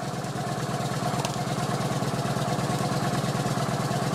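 A Kawasaki VN900 Classic motorcycle idles steadily with its alternator plug disconnected, running on battery power alone: an even, low, continuous engine rumble, close by, with no voices.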